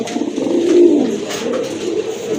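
A male Danish pigeon with deep red coloring and a thick beak gives a single soft, throaty coo up close, rising and falling over about two seconds.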